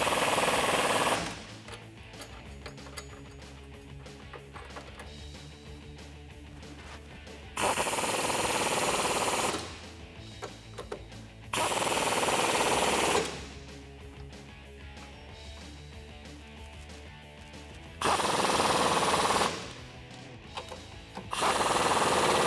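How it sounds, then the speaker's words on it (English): A pneumatic impact wrench with a 13 millimeter deep socket tightens mounting hardware for side step bars on a 2009-2018 Ram pickup, firing in four loud rapid hammering bursts separated by quieter pauses. "you can tighten it down using a 13 millimeter deep socket"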